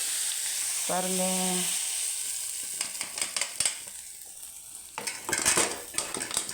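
Hot fried tempering tipped into a pot of bitter gourd kuzhambu, giving a steady hiss of sizzling with stirring and clinks of a utensil, a brief voice speaking partway through.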